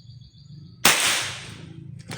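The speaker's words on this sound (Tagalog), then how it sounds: "Testing natin without silencer para makita natin yung difference ng silencer." A compact short-barrel air rifle fires once without a silencer at a target 20 yards away, giving a single loud, sharp crack with a brief ringing tail, followed by a faint small knock.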